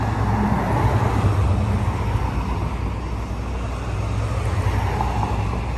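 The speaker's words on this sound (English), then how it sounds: "And there is the Ion bus." A Grand River Transit Ion bus passes nearby, a broad steady roar of engine and road noise holding at an even loudness throughout.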